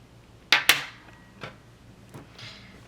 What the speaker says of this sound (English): I'm going to cut my yarn.